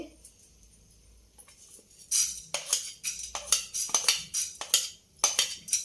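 Coriander seeds go into a hot pan for a brinjal masala fry and are stirred with a wooden spatula, making close, repeated scraping clinks and rattles in uneven bursts after a quiet start.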